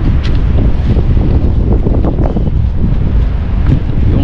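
Strong wind buffets an outdoor microphone in hot weather, a loud, continuous low rumble that roars without a break for the whole stretch, with no voices over it.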